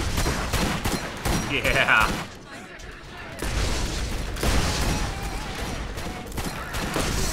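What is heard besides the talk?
revolver gunfire from video game Borderlands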